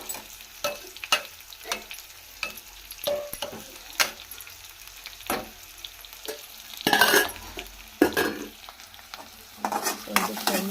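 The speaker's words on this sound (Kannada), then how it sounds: "ಇದು ಫ್ರೈ ಆಗಲಿ." Vegetables fry in a pan with a soft steady sizzle while a spatula scrapes and knocks against the metal in irregular strokes, close by, with a louder clattering burst near the middle.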